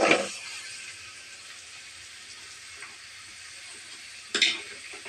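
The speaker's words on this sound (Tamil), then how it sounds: "எண்ணெயை ஊற்றிட்டு இந்த க்ளீன் பண்ணி வச்ச கரண்டை" Cleaned greens go into a little hot oil in a kadai: a burst of sizzling at the start fades to a low, quiet frying hiss, then a second sharp sizzle flares near the end.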